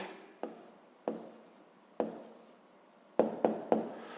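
A pen or chalk writes out an answer in short strokes, six distinct taps and scratches spaced unevenly, with a quick cluster of three near the end, close and fairly quiet.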